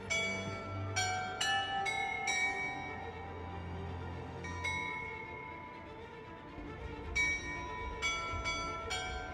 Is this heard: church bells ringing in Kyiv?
yes